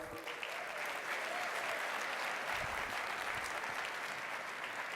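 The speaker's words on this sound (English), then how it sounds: "So round of applause to the board" Steady applause from an audience at a national convention meeting fills the space, an even wash of clapping at moderate distance that holds without a break.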